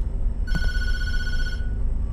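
A single telephone ring inside the Tattletail horror video game, a bright electronic tone lasting about a second over low background hum, with no talk.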